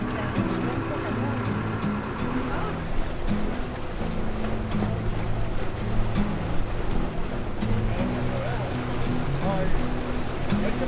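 Chinese junk rig schooner sailing on Georgian Bay in a light breeze, with a steady wash of water and wind noise running throughout and voices talking over it.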